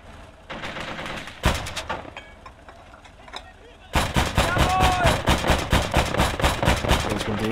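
Rapid machine gun bursts and gunfire crackle in the WWII game Gates of Hell: Ostfront, set in the invasion of Poland, sparse at first and then a dense, loud, continuous barrage with battlefield noise.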